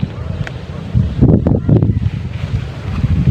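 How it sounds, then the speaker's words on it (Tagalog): Loud, gusty wind buffeting the microphone in a wide open pasture, with a low rumbling roar that swells and subsides in a couple of strong gusts. "malakas na hangin ayan"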